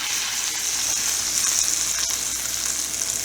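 Thick tomahawk ribeye steak searing in a hot pan, a loud steady sizzle and crackle with no breaks, close up and with no voices.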